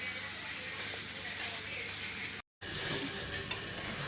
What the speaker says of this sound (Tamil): அதனால நம்ம தேங்காய் திருவுனதை போடலாம். இதை போட்டு லைட்டாக கிண்டி விட்டுக்கலாம்.